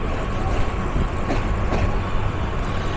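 Lalmoni Express, a Bangladeshi passenger train, sitting at the station on a steady low rumble with faint clanks, heard from close by without speech.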